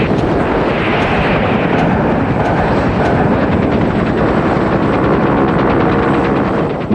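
A UH-1 Huey helicopter gunship in a combat landing-zone scene, heavy rotor and engine roar filling the air with a rhythmic blade thump and possible gunfire mixed in, loud and continuous.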